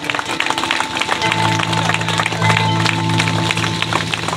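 An audience claps at an Adivasi Sarna Dharma prayer meeting. Dense, steady, rapid clapping from a crowd stays loud throughout, with a sustained tone and voices in the background.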